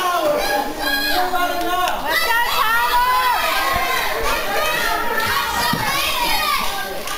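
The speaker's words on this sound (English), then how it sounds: "You can hear the crowd trying to get behind the young man Tyler Storm" A crowd at a live independent wrestling match cheers and shouts continuously, with high children's voices prominent in the dense, loud roar.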